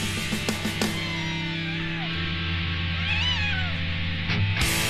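A pet cat meows several times outdoors, its rising and falling cries standing out clearly over a steady low background hum, with no talking alongside.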